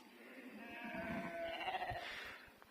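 Several wavering sheep bleats carry over low outdoor noise, fairly close, rising and falling across the few seconds.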